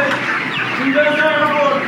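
Chickens on a large poultry farm cluck and chirp continuously while being fed, close and busy. Someone talks over the birds.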